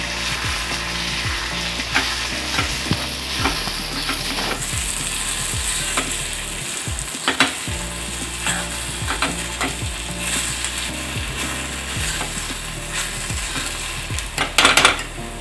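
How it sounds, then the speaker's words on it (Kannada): MTR bisi bele bath powder being stirred into hot oil in a pan, steady sizzling under repeated metallic scraping and clinking spoon strokes against the pan, close and busy throughout. "ಚೆನ್ನಾಗಿ ಎಣ್ಣೆ ಜೊತೆ ಮಿಕ್ಸ್ ಮಾಡಬೇಕು."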